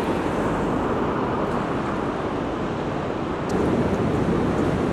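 Steady roar of surf washing onto a beach, broadband and continuous, with a slight swell in intensity near the end; no voices.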